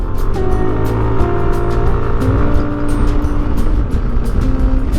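Yamaha Nmax 155 scooter (2023) overtaking a car on an open road, with steady engine drone and wind noise running continuously throughout at close range, no talking.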